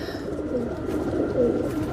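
Breeder pigeons coo in a low, rolling murmur, close and steady throughout, with soft overlapping throaty calls and no talk over them.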